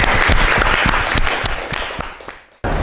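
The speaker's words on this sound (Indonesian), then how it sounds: "tepuk tangan untuk kita semua" A classroom group claps together, loud and close, a dense burst of hand claps that fades out near the end before cutting off abruptly.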